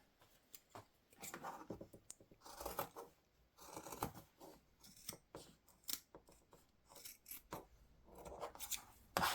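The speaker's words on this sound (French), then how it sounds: "Nous allons couper l'excès de fermeture éclair et tous les petits fils qui dépassent" Scissors snip through the excess zipper tape and loose threads of a sewn fabric pouch, a series of close, crisp cuts and rustles that come in bursts of clipping with short pauses between them.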